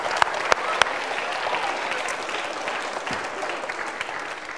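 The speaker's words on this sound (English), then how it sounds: "Give yourselves a round of applause." Students at a school music event applaud themselves, a sustained, fairly distant crowd of clapping with a few sharp, close claps near the start, steady and without talk.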